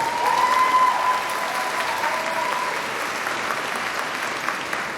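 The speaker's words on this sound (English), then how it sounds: "Let's give her a big round of applause." Sustained audience applause at a high school graduation ceremony, a dense wash of many hands clapping steadily for a graduate, with crowd noise throughout.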